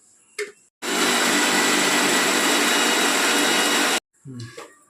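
A short burst of a mixer grinder at full speed, grinding masala spice paste with a little added water, for about three seconds, framed by brief bits of talk on either side.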